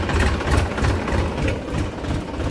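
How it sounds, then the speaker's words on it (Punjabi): A tractor engine that has just started runs nearby with a loud, rough, chugging idle, its low throbbing pulses steady and continuous throughout. "ਇਹ ਮੇਰੇ ਵੀਰੇ ਇਹ ਟਰੈਕਟਰ ਹੋ ਗਿਆ ਸ਼ੁਰੂ"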